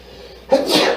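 A single sharp sneeze bursts out after a moment of quiet, close and loud.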